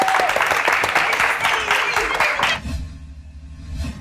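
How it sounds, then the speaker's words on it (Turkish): A studio audience claps over loud speech on a Turkish talk show, and the applause cuts off abruptly partway through, leaving low rumbling background. "Hadi alkışlayın gitsin."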